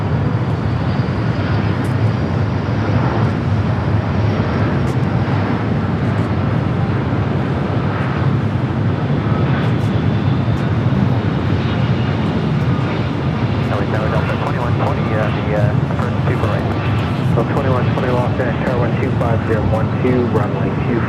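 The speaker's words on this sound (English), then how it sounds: "We'll swing the camera back up here to the north side for that Delta 757-200." A Delta Boeing 757-200 airliner arriving at LAX from Boston, heard as a steady, loud jet roar that holds throughout and swells slightly as it passes, with a continuous low rumble and some faint whining tones.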